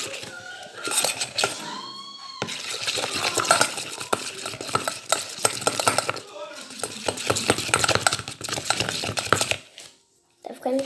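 Neon glow slime being stirred and mixed, giving continuous wet squelching and scraping clatter at close range that runs almost without pause, with a brief quiet gap near the end.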